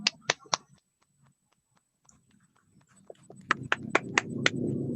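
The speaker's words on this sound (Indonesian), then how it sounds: "Kita kasih tepuk tangan lagi." Children clapping along in a classroom lesson: a few sharp separate claps at the start, a quiet gap, then a fuller run of rhythmic claps over a low murmur of voices.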